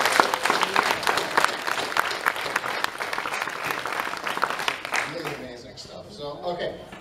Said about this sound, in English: we need to give a second round of applause for the score by Brandon